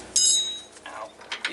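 A short burst of ratchet clicking close up while tightening a bolt on a third-generation Toyota 4Runner Panhard correction kit, a quick series of mechanical ticks followed by a few faint clinks.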